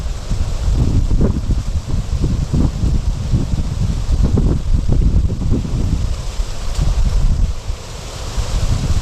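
Strong stormy wind gusting outdoors at a fishing spot, loud and continuous with roaring buffets against the microphone and a wash like surf, no voices.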